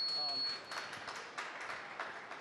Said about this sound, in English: it's the first time I've ever gotten applause